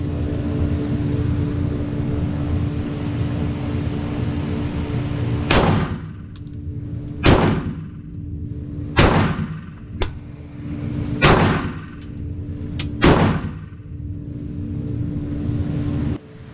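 A Glock pistol fitted with an MCK brace fires five sharp shots at an outdoor range from 20 yards. The shots come at irregular intervals of about two seconds over a steady background hum.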